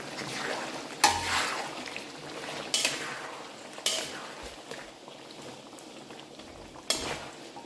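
Chicken korma with yogurt and tomato frying in a pot, a steady sizzle and bubble broken by several sharp scrapes and clacks of stirring.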